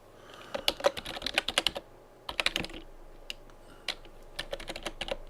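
Bursts of key clicks from typing on a computer keyboard while laying out a wedding album page in design software, quick irregular taps in clusters with short pauses, close and clear with no talking.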